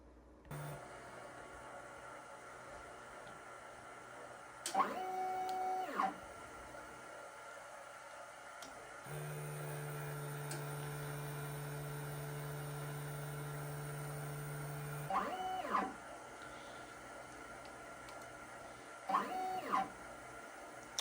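A large DTF printer powers on and initializes: a low steady motor hum runs throughout, with several rising and falling whirring sweeps as the print carriage moves, plus a sustained mechanical drone in the middle, close and fairly quiet.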